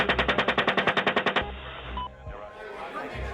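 Machine gun fire from US forces: a loud, rapid burst of about fourteen evenly spaced shots that stops abruptly, followed by a quieter stretch of faint background noise.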